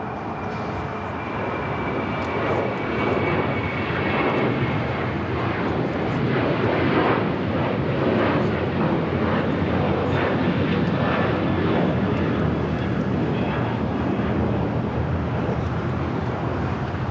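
An Emirates airliner climbs away from a runway at LAX and banks into a left turn, its jet engines roaring in a steady, broad rumble that holds loud and slowly shifts throughout.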